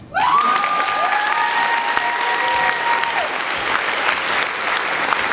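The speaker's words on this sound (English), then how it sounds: "please first let the audience applaud you" Steady, dense applause from a literary festival audience at Litquake, loud and sustained throughout with a few tonal sounds at the start.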